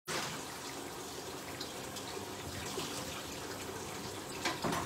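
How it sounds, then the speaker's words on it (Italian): Tap water runs steadily into a sink while fish are rinsed for fish soup, a continuous close hiss and splash with faint clinks and no talking. "Allora, laviamo questi sotto l'acqua corrente."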